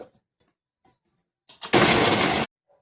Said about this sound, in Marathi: आणि वाटण थोडंसं जाडसरच वाटायचं आहे.